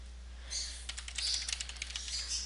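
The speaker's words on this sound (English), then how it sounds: "So just type in a quick code here." Quick bursts of keystrokes on a computer keyboard while entering HTML code, close and fairly quiet, in an uneven rhythm of clustered clicks with brief pauses.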